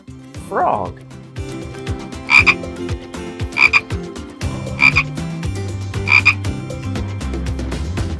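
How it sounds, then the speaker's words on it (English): A frog croaks in a repeated series of four or five short, loud calls spaced about a second apart, with a brief voice and soft tapping in between. "Frog."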